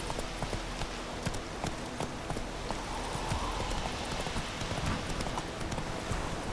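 Roach the horse gallops in The Witcher 3, a fast, even clip-clop of hooves that runs steadily throughout at moderate volume with no voices.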